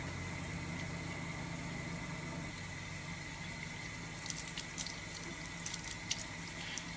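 Mixfader bars are washed with dish soap under running water: a steady close rush from a tap, with light splashing and clinks of handling toward the end.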